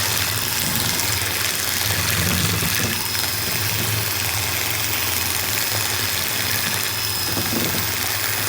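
An electric mixer at medium speed whips egg whites with sugar for lemon meringue, a steady close motor whir with a soft wet swishing texture running unbroken and without talk.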